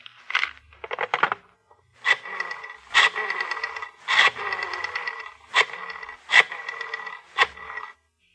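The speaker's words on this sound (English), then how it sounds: "The sound of the flipping pages." Pages of a telephone book flipped in an old radio drama, a series of sharp papery riffles and rustles, about eight in quick irregular succession, close and clear with no voices over them.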